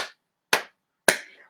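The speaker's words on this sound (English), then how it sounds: "Clap," Three sharp, single hand claps spaced about half a second apart in a quiet room during a family drumming session, each crisp and close with a short decay, the last one slightly ringing.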